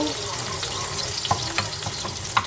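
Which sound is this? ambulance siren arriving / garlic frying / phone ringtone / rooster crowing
garlic frying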